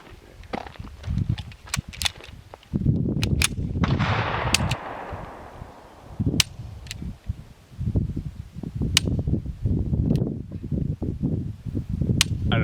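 An Arex Rex Zero 1 S 9mm pistol fired outdoors at a range: a string of sharp, spaced shots, some quick pairs, ringing over a noisy, rumbling background.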